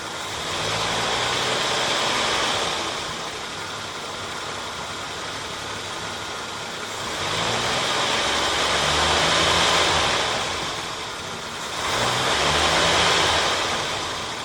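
Loud, close idling of a Jeep CJ7's 258 inline-six engine during a tune-up, with a steady rumble, rising in periodic revs that swell and fall back three times.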